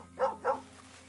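A dog in the video game Red Dead Redemption 2 gives two quick, close barks in succession, with a low steady background hum and no talk.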